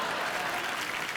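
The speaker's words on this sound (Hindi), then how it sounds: "जोरदार तालियां" Steady, dense applause from a television comedy show's studio audience, continuous clapping filling the whole moment at moderate volume.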